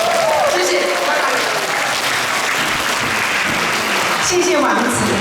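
A crowd at a hospital concert applauds warmly to welcome a singer onstage; loud, continuous clapping holds throughout while a voice briefly speaks over it near the start and again toward the end.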